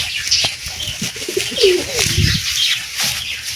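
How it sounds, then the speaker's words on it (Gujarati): Pigeons cooing inside their coop, low repeated coos close by against a steady background hiss, with a soft flutter or two and no talking. "અહીંયા આપણે બધા કબૂતર બેઠા છે"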